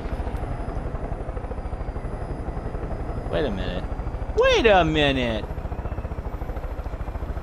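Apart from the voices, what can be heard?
helicopter in the video game Far Cry 5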